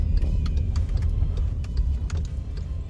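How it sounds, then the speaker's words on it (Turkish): A car passes nearby on a road, giving a steady low engine rumble with faint, scattered higher clicks above it. "Araba da geliyor ama bize yol verdi."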